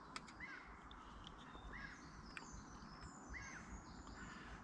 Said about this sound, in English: there's a wee bird moving in.